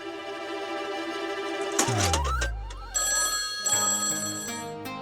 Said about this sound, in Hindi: ये हमारा फोन है, 2 बार बज के कट हो जाता है।